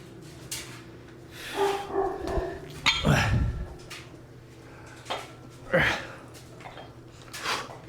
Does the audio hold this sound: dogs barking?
yes